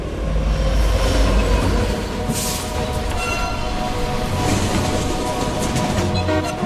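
A heavy train rumbles steadily along the tracks, a continuous low roar with rattling and faint metallic squeals layered on top.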